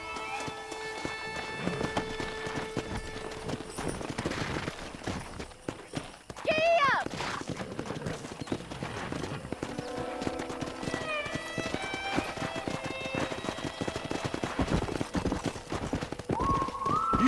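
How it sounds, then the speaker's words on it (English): Hooves clip-clop rapidly as horses run in the video game Red Dead Redemption, with an occasional whinny, while voices talk over the galloping. "Let's see if we can't wrangle some horses."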